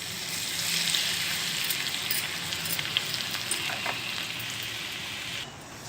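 Garlic paste dropped into hot oil for a mango pickle tempering gives a steady, bright frying hiss that fills the whole stretch and stays fairly close and loud, with no voices, before it thins out near the end.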